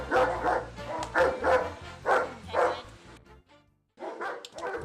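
A six-year-old German Shepherd barks in a quick series of deep, close barks, a brief pause, then resumes barking, with a low rumble beneath.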